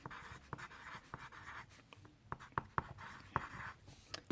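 Pen writing on paper in a classroom-style setting, close scratchy strokes with sharp taps and short bursts of scribbling, uneven rhythm and no talking.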